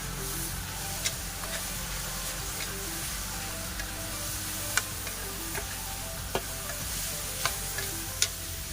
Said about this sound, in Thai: เราจะผัดแบบ แห้งๆนะคะ คือไม่ได้ผัดมีน้ำอะไร